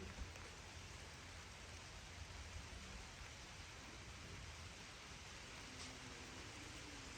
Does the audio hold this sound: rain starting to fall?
yes